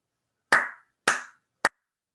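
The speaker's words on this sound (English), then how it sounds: "here's an example of clapping along with something." Three sharp hand claps, close and isolated in silence, the first two evenly spaced and the third quicker and shorter, marking a beat for a nursery rhyme.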